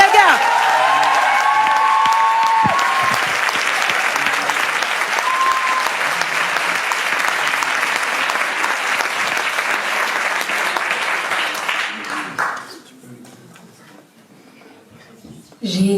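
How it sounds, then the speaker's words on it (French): An audience at a literary spoken-word event gives a loud, sustained round of applause with some cheering, dense clapping for about twelve seconds before fading to near silence, then a brief new sound at the end. "Un tonnerre d'applaudissements pour Joy Slam aka Joya Kayaga."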